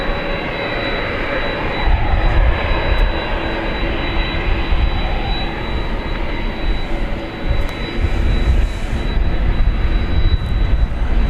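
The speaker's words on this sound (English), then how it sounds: "Flight 793 to Louisville, the UPS 767-300 freighter, just 4 years old" A four-year-old UPS Boeing 767-300 freighter jet bound for Louisville roars steadily at Dallas Fort Worth International Airport at night, a broad, loud engine rumble with a high whine that holds throughout without voices.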